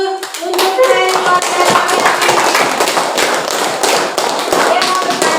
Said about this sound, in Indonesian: Sebelumnya tepuk tangan dulu untuk Ferry.